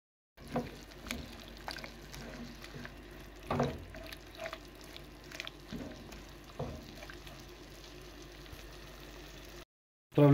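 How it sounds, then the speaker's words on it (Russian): Funchoza noodles with chicken and soy sauce being stirred in a pan: soft wet scraping and clattering with intermittent louder knocks of the utensil, fairly close, with no talking. "Отправляем сюда соевого соуса, соль, перец молотый, все хорошо перемешиваем."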